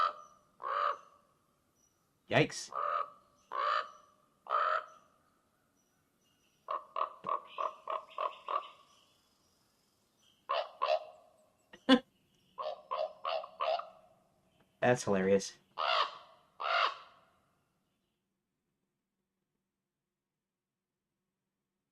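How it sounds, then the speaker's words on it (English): Raven calls played back through computer audio, a series of loud, hoarse croaking caws in repeated bursts of three to six, with brief spoken remarks in between and silence at the end. "Let's listen to the raven now."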